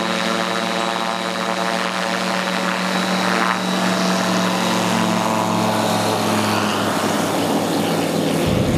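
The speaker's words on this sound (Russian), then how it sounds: "Один за другим самолеты взлетают на заявленную для рекорда высоту – 200 метров." Light aircraft taking off one after another at an aerial chess record event, with a loud, continuous droning engine and propeller roar that stays close and steady throughout.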